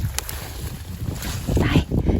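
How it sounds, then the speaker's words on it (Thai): Strong wind gusting outdoors in a field where wild bitter greens are being picked, buffeting the microphone with loud rumbling bursts through the clip. "โอ้ยลมมันแรงค่ะเพื่อนตั้งกล้องก็ไม่ได้"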